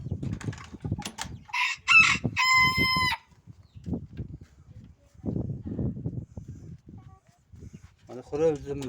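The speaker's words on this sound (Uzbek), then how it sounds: "Mana xo'rozimiz." A pet rooster clucks a few times and lets out one clear crow, with someone talking nearby between the calls.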